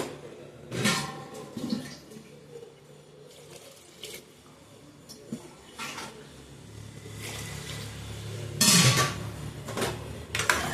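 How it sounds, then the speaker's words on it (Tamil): Water splashes and pours into a metal pot for sambar in a few uneven bursts, with clinks of cookware and quiet background. "இப்போ கொஞ்சம் தேவையான அளவு தண்ணி ஊற்றிக்கலாம்."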